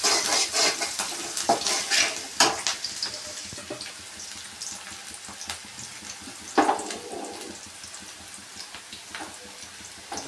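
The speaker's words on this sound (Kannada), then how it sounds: "ಈರುಳ್ಳಿ ಮತ್ತು ಹಸಿಮೆಣಸಿಕಾಯಿ 2 ಫ್ರೈ ಮಾಡ್ಕೊಳ್ಳೋಣ ಸ್ವಲ್ಪ." Onions and green chillies frying in hot oil in a pan for a moringa leaf stir-fry, giving a steady close sizzle broken by sharp clinks and scrapes of a spoon stirring against the pan, with no talking.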